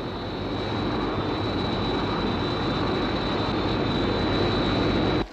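Sky One, the aircraft from the UFO series, flies past with a loud, steady jet roar and a high thin whine running throughout, cutting off abruptly at the end.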